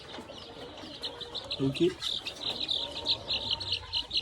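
Pet chicks, young birds being treated for spraddle legs, chirp steadily in rapid high peeps close by, with a brief spoken word partway through.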